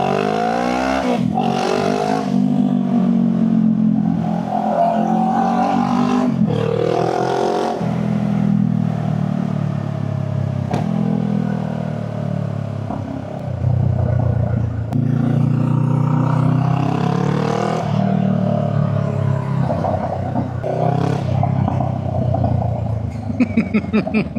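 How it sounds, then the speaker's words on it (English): A new V8 Range Rover SV engine roars and revs loudly nearby in a long continuous stretch, its pitch rising and falling through repeated accelerations with some clatter on top. "That's a new V8 Range Rover."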